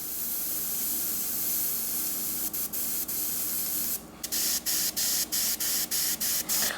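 A dual action airbrush sprays paint as a steady close hiss, then cuts in and out in short, evenly spaced bursts as the trigger is pressed and released.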